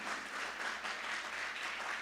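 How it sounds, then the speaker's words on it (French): A studio audience applauds the Lycée Pétion and Collège Frantz Paillère teams at the Télé Génie school quiz contest, a steady, dense wash of clapping that lasts the full two seconds without any voices. "Vous applaudissez le lycée Pétion et le collège Franz Payer"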